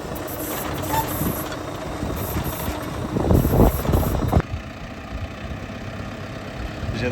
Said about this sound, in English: This is in the John Deere 5115M.